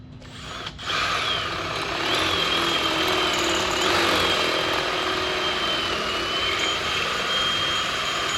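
A carbide burr grinds away a broken-off part during an E28 turbo fuel pump upgrade, a loud, continuous high whine that starts abruptly after a short click and holds steady.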